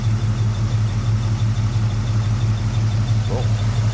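A 1971 Chevrolet Nova SS with a 350 V8 and mild cam idles close by, a steady, even low rumble with a slight rhythmic lope, heard on its own without talk.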